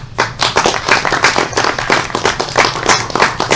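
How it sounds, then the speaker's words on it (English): A round of applause from an audience at a talk on libertarianism, dense overlapping claps sustained and fairly close for the whole stretch. "By the way, Gordon, that's the last round of applause you're getting."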